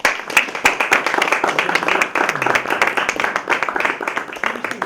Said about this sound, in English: Let's give our panel an applause here